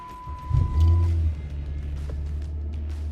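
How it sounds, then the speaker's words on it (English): Car engine cranking and catching on a cold start, then settling into a steady low idle, close and fairly loud. "I'm gonna start the car."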